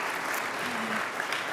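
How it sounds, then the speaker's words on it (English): An audience at an environmental evening event claps steadily for Senator Ann Carney. A short burst of dense applause is heard with a faint voice briefly audible underneath. "give her a round of applause"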